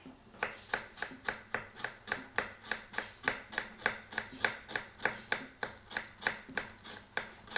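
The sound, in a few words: chopping onions with a knife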